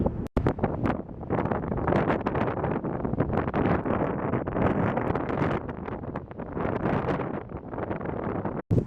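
Strong wind blowing across open grassland on Long Island, a loud continuous roaring rush buffeting the microphone, with brief gusty breaks at the start and end.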